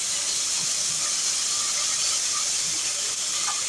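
Onions frying in a pan over medium heat, a steady, even, close hiss that continues without a break.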